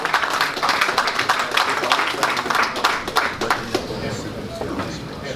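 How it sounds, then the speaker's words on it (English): An audience at a boxing press conference applauds, a dense burst of clapping that swells then thins out over a few seconds, with a voice speaking over it. "A round of applause."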